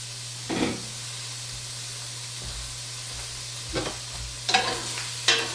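Leeks and other vegetables frying in butter in a soup pot give a soft, steady sizzle, with a few distinct stirring scrapes near the start and toward the end, and no talking.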